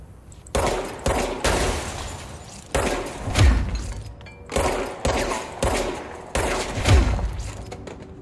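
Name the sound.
gunfire shooting the grass in Control video game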